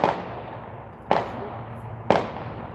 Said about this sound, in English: either there's a gang war going on or that's fireworks.